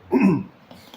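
A single short, throaty cough-like burst from a preacher with an itchy throat during a Sunday afternoon church service, close and fairly loud, followed by quiet background.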